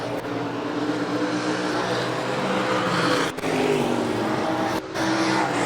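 IMCA stock cars race a heat on a dirt oval, engines roaring loud and continuous with shifting revs as the pack circles, two brief dips where the sound drops out.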